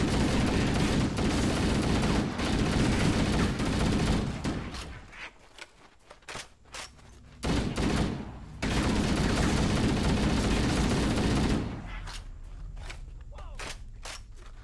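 Bursts of rapid automatic gunfire and scattered shots from the video game Halo: Combat Evolved, loud and dense at first, then dropping away to quieter pops before another long sustained barrage and a fade to low background noise.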